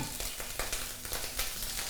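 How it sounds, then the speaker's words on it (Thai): Garlic sizzles and crackles steadily in hot oil in a wok, with brief scraping stir sounds recurring through a loud, close frying hiss. "ใส่กระเทียมลงไปผัดให้หอม"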